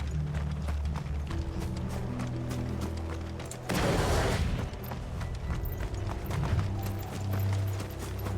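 Steady clip-clop of horse hooves from the game Final Fantasy XVI soundtrack, with mechanical rumbling and a louder noisy burst partway through.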